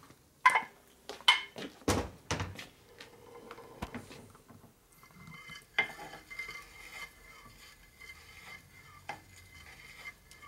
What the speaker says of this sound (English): You hear it rubbing, but it's not digging in like it was